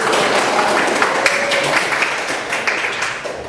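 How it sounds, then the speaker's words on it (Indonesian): A high school chemistry class applauding after a lesson on Lavoisier's law of conservation of mass, scattered clapping from many hands that thins and fades toward the end. "Oke, kasih aplaus dulu"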